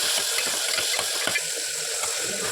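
Onion, green chili and tomato sauté in oil with mustard seeds in a pan, a close scraping stir with rhythmic clicks and a soft sizzle underneath.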